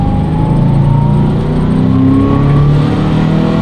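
Volkswagen Vanagon swapped with a Subaru EJ25 engine accelerating from a U-turn, a loud, close, steady engine drone rising gradually in pitch with road noise and no talk.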